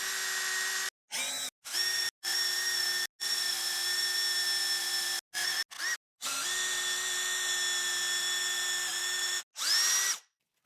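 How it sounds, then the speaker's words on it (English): A power drill with a twist bit bores all the way through a part on a zero-turn riding mower. The high whine runs close and loud in repeated bursts, stopping and restarting several times, with the pitch rising briefly as each burst spins up. "I drilled all the way through with a twist bit to make things easier."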